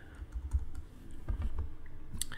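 Mouse clicks entering notes into an Ableton drum sequencer grid, a scattered series of soft, close clicks over faint low room hum, with no voices.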